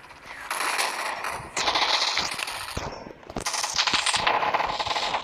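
Loud gunfire and explosions from the video game Gunfight Arena, with dense rapid automatic shots and sharp bursts crowding together, briefly dipping before surging again.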